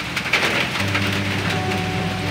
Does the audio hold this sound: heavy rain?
yes